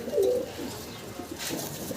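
A pair of fancy pigeons kept at a breeding farm give low, throaty coos nearby, a brief louder burst at the start fading into soft continuous murmuring.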